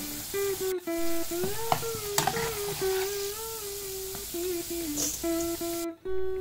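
Cornflour-coated corn kernels fry in oil, a steady sizzle with stirring clinks, while a tonal hum runs underneath, without speech.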